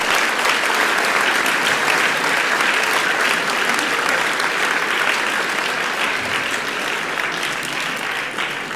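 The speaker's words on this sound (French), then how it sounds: "je crois que vous pouvez leur faire un tonnerre d'applaudissements." Loud, sustained thunderous applause from a large audience at a civic award ceremony, a thick continuous wash of clapping hands that holds steady throughout and eases only slightly near the end.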